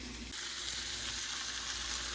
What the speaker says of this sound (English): We got the water boiling.